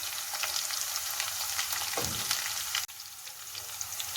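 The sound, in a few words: onions and green chilies frying in oil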